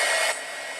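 A heat tool blows hot air for embossing on a card, a loud steady whooshing roar close by that drops to a lower, softer hiss partway through the short burst.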